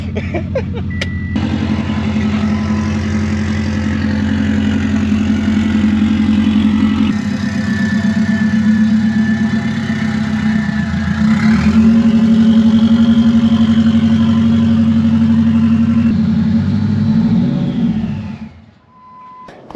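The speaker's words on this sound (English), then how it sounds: "it's gonna be pretty loud because the exhaust is gone" A Saab 9-2X with its exhaust removed idles loudly and harshly close by, a continuous rough drone that shifts pitch slightly a few times before cutting off at the end.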